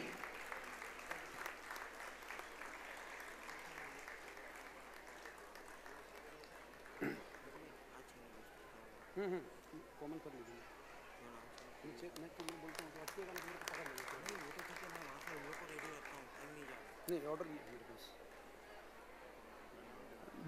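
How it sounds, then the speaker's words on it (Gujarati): A crowd at a cultural festival gathering applauds throughout. The clapping swells and fades, and a voice speaks over it. "જોરદાર તાળીઓ"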